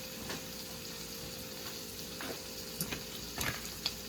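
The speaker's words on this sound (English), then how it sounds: "this chorizo along with the chopped onion just needs to cook" Chorizo and chopped onion fry in a pan, giving a quiet, steady sizzle with a few soft stirring clicks and scrapes.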